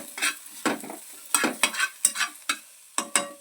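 Eggplant stir-fried in a pan for a North Karnataka palya, with a spatula scraping and tossing in about ten distinct strokes over a light sizzle, no voices.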